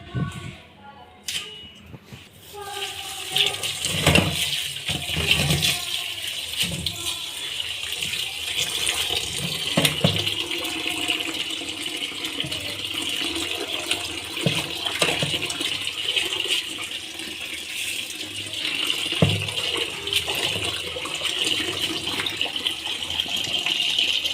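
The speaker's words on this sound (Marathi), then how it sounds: "सो मी आधी अशीच धुवून घेते चिरायच्या अगोदर, आणि मग नंतर चिरून घेते" Leafy vegetables rinsed whole under a running tap before chopping, a steady rush of water lasting throughout with occasional splashes and handling knocks.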